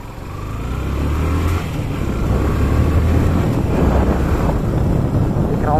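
Motorbike ridden at full power outdoors, with a low engine drone buried under heavy, continuous wind buffeting on the microphone; loud and steady throughout, with no talking.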